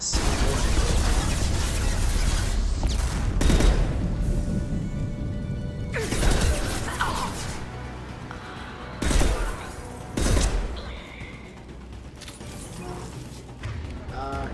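Gunfire in the Mass Effect 2 video game, with bursts of shots and sharp impacts spaced through the passage, loud against a busy backdrop of game sounds and mechanisms.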